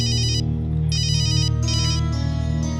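An incoming-call ringtone on a mobile phone plays loud and steady, its repeating electronic melody sounding in bursts over a sustained tone, with no voices.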